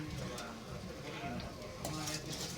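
Rice, turmeric and other ingredients being stirred together in a cooking pot, a steady scraping and rustling that runs close and continuous, with a soft sizzle beneath and some faint background voices.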